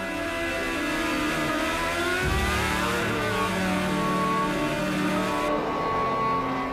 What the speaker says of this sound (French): les F1 s'engagent dans l'avenue Princesse Grasse vers une double courbe à droite jusqu'au virage du Portier